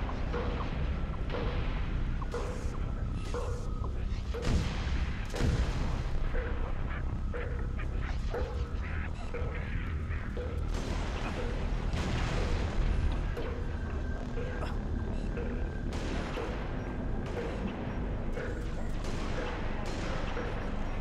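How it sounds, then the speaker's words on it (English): Sniper rifle fire in the video game Halo: Reach, several loud sharp cracks spaced seconds apart over a dense layer of other game effects and bursts. "This sniper rifle is amazing."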